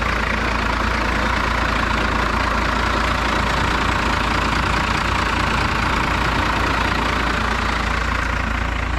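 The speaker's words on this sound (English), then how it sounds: "you get up here by this 12 valve rattling engine, you can't even hear yourself talk" A first-generation Cummins 12-valve diesel engine idling, loud and close, with a constant rattling, knocking drone and heavy low rumble that never lets up.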